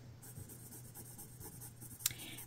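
A pencil scratches and sweeps across paper while drawing a baseball bat, soft continuous strokes with a brief sharper scrape near the end, close and quiet with no talking.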